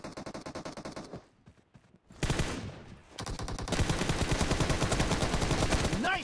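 Rapid automatic gunfire in the mobile battle royale game PUBG Mobile, loud sustained bursts that pause briefly, then resume in dense rattling volleys, with an echoing shot at the close.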